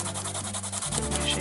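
A pencil shades across paper, making a close, continuous rubbing scratch with a steady back-and-forth stroke rhythm.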